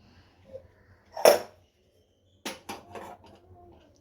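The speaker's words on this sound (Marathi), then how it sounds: "त्याच गॅसवरती मी आता कढई ठेवत आहे" A metal wok clanks sharply onto a gas stove, followed a moment later by a few lighter scraping knocks and rattles, then quiet.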